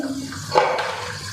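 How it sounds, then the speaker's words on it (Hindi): Rice is poured into a pot of boiling water while making chicken tikka pulao, giving one brief splashy rush of grains and water just past the midpoint over a low, quiet background. "अब मैं इसमें चावल डालूँगी।"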